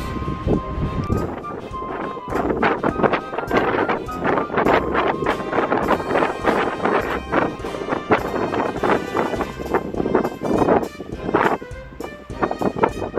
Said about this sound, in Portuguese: Tem muito vento, não vou conseguir gravar